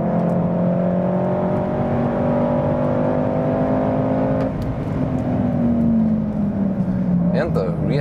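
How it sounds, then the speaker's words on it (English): VW Golf R facelift hot hatch, 310 hp with all-wheel drive, driven hard on a racetrack, its engine droning steadily at high revs with a shift in pitch midway and tyre noise underneath, while someone talks over it. "We are burning some tire on the ground, I can tell you."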